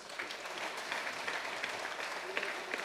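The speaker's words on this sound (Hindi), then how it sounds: "आप सबकी तालियों के साथ I would like to call upon Shri Sunil Jadhav on stage." Applause from an audience at a Buddhist cultural program as a speaker is called on stage, steady dense clapping filling the whole moment at moderate loudness, with a voice faintly present underneath.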